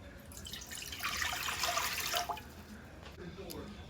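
Water from a measured two-cup amount is poured into a medium saucepan over high heat for cinnamon spice oatmeal, making a steady splashing pour in the middle of the clip that tapers off, with quieter kitchen sounds around it.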